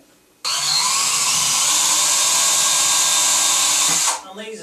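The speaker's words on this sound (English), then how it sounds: "instead of just drilling all six holes, go ahead and drill the top two, put the screws in them." A power drill bores screw holes for a Craftsman swing door shower enclosure, a steady loud whirring run lasting about four seconds that starts abruptly and cuts off, with no talk over it.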